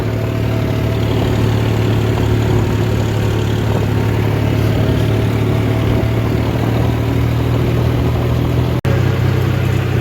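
A tractor engine drones on a rough rural road while towing a filled tanker, a loud, steady low hum with constant rattling, unbroken except for one brief cut near the end.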